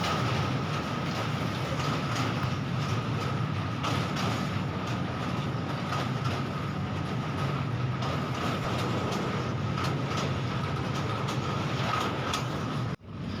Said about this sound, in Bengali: তিস্তা নদীর পর আবারও ট্রেন ছুটে চললো